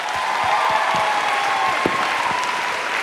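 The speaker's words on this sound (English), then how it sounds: "Can we just give you a round of applause for that?" An audience applauds an author, Reginald Yates, for writing his book: a steady, dense round of clapping from a crowd that holds at an even level throughout.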